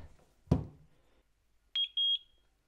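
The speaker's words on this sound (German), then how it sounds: "Jetzt hat es gepiept" After a single sharp knock, a Eufy dual-camera battery video doorbell emits two short high-pitched beeps in quick succession, loud and clear against a quiet room.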